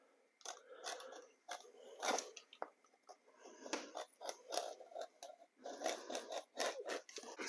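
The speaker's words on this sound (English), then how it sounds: "I'm just going to clean that edge up a little bit with my knife." Utility knife trimming the cut edge of a vinyl plank during a bathroom floor install, giving repeated close scraping and crunchy slicing strokes in irregular bursts with brief pauses, no voices.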